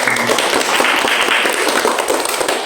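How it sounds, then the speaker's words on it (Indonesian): Audience applause for student performers after a short acting piece at a university competition, loud dense clapping from a close crowd that keeps a steady level to the end. "Tepuk tangan lagi dong buat teman-teman."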